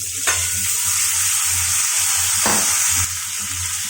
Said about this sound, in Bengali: বিন আলুটা ভেজে নিচ্ছি।